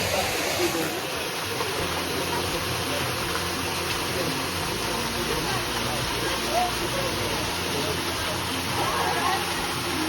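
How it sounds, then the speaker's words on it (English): A loud waterfall in Puerto Rico roars as a steady, dense broadband wash of falling water, constant and close throughout with no breaks. "Found the waterfall. It's really loud"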